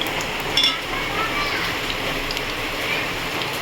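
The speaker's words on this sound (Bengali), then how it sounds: "কালো জিরা ফোড়ন দিয়ে দিলাম।" Nigella seeds tempering in hot mustard oil in a kadai, a steady crackling sizzle with small pops, fairly close and continuous, with a voice speaking over it.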